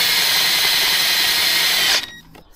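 A power drill bores into a Moto Guzzi V7 motorcycle part with a loud, steady, close whine that lasts about two seconds, then stops abruptly.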